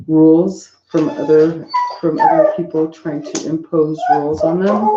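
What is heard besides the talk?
dog whimpering and barking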